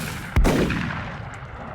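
A single loud shot of reaction fire from a soldier in XCOM Long War, a turn-based strategy game, booms out sharply and then rolls off in a long, fading reverberant tail.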